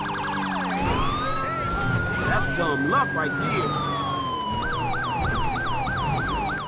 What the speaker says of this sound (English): With the modern siren pack, we get modern, real-world siren tones that sound much closer to what you'd expect from current generation vehicles.